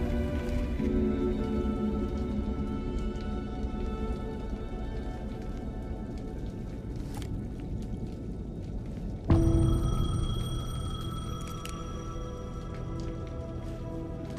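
A payphone in the video game Alan Wake 2 rings with a bright metallic bell over steady rain pattering on surfaces, the ringing rising suddenly partway through and continuing over the rain.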